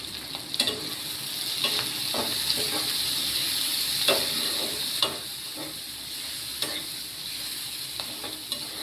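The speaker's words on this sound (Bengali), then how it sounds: "এই তেলেই পেঁয়াজটা ভাজা হয়ে যাবে" Onions fry in oil with salt and turmeric, a steady sizzling hiss punctuated by occasional stirring clicks and scrapes, close and alone without talk.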